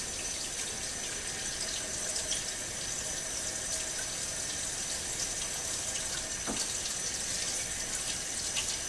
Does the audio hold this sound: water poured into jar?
yes